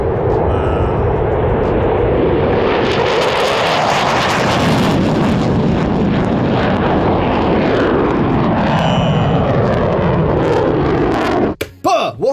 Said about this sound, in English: you can look at how an F-15 takes off. I'll show you the footage.